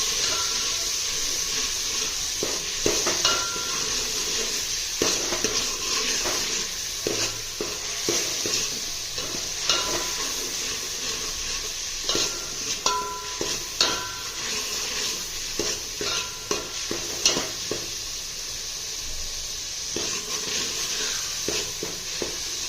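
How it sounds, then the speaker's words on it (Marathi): Ground chili stirred and sautéed in a hot pan with asafoetida for a Maharashtrian rassa, a steady close sizzle with repeated scraping stir clicks throughout, no talking. "त्यामध्ये वाटलेली मिरची टाकू मिरची टाकून परतून घेऊ"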